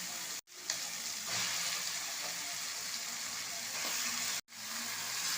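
Chicken pieces go into a pan of frying capsicum for a Tamil-style capsicum chicken, setting off a steady, loud, close sizzle that runs without a break, apart from two sharp cut-offs.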